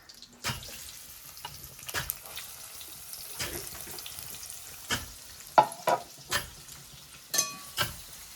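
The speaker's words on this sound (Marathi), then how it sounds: "टाकते मी कांदा." Onion fries in a pan for a jackfruit vegetable dish, a soft background sizzle punctuated by sharp, irregular spatula knocks and scrapes against the pan, growing more frequent toward the end.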